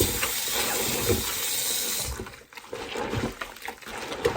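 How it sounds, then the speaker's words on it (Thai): Water drains off salted wild garlic being prepared for pickling, a loud, close, steady rush of running water that thins out halfway through into gurgling splashes and trickles. "อันนี้เอาน้ำอันนี้ออกเลยค่ะ"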